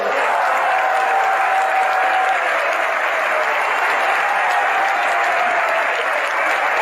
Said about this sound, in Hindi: यदि आप लोगों को अच्छा लग रहा है तो ताली बजाइए।